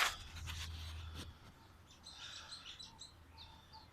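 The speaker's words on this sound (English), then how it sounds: "Birds are chirping" Birds chirping in a park on a cool morning, with several short tweets and calls scattered through the second half after a brief low rumble and rustle at the start, fairly faint and mid-distance.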